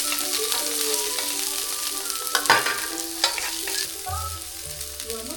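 Garlic and onion fry together in a hot pan, a close, steady sizzle with clinks and scrapes of stirring and a few sharper knocks of utensil against pan.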